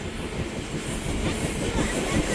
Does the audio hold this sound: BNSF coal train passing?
yes